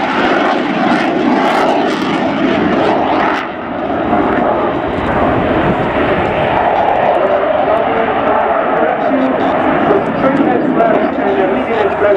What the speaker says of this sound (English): As shown in this low hover flight, 30 degrees nose up